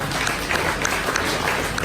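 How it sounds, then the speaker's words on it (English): Audience applause at a regional tech awards ceremony in Australia, a steady dense wash of clapping held at even loudness throughout, no voices over it. "round of applause"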